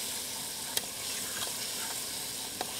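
Onions frying in a pan, a steady bright sizzle filling the whole stretch with a few sharp pops and crackles, close and fairly loud with no voices.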